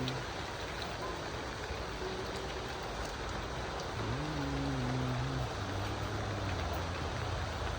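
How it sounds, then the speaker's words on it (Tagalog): Loud, steady downpour of heavy rain hissing without a break, with a low engine hum rising briefly in the background. "Wow, kalaksan ng ulan."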